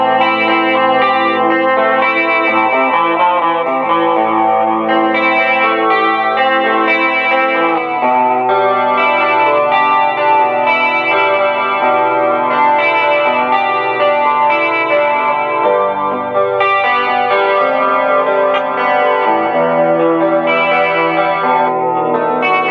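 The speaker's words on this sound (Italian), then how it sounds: "Se gli vado ad aggiungere un filo di chorus, rimango sempre coi toni un po' chiusi." A Squier Sonic Stratocaster HT electric guitar played through a Zoom G6 multi-effects unit with a light chorus effect, giving a shimmering, somewhat dark chordal tone that rings continuously and loudly with no voices.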